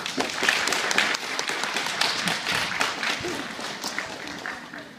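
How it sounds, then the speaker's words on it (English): Elementary school students clap together for a visiting guest, a lively, slightly uneven burst of small hands that stays close and moderately loud, then gradually thins out. "So, can we give Mr. Jones a polite hand clap, please?"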